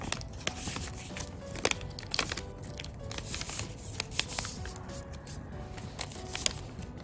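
Paper being folded by hand into an origami duck, a continuous soft rustle and crinkle with scattered small crisp creases close up, no talking.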